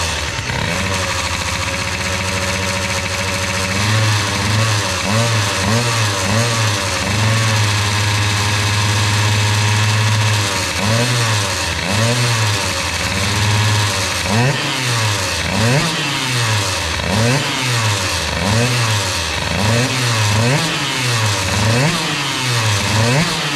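A Bidalot RF 50 WR two-stroke engine fitted with a 20 mm carburettor rattles at a low idle, then is blipped repeatedly in a quick rhythmic series of rising and falling revs, loud and close.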